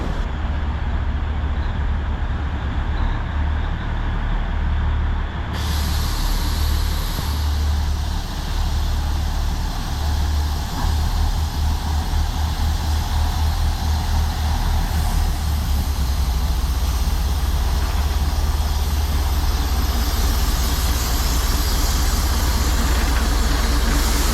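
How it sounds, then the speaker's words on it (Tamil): A steam train arrives in Matheran, Maharashtra, a heavy, continuous mechanical roar with rhythmic chugging, loud and close throughout. "ட்ரெயின் வருதுங்க"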